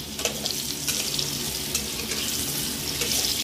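Potato pieces frying in hot oil while being tossed with biryani spice, a continuous close bright sizzle with faint stirring scrapes and no voices.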